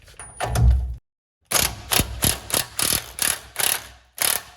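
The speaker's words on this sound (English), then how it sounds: "I've got a 13/16 socket, a deep socket, and I'm going to loosen up this nut first" A ratchet with a 13/16 deep socket loosens the castle nut on an outer tie rod of a 2005-2012 Chevrolet Colorado/GMC Canyon, giving a string of sharp clicking bursts close up after a brief thunk and a pause.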